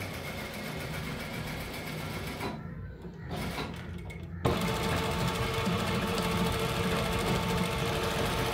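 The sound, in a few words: sewing machine stitching elastic joint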